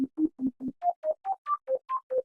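A dry synth arpeggio with all effects off plays eleven clean, evenly spaced notes, starting low and repeating, then stepping up into a higher rising-and-falling pattern.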